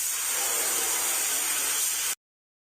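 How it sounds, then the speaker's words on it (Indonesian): A spray gun hisses steadily as it coats a repainted police car with varnish in a kids' repair game, a bright, even spray lasting about two seconds before stopping abruptly. "Sekarang kita hanya perlu memberikan pernis ke area yang dicat. Geser pistol semprot ke tempat yang tepat."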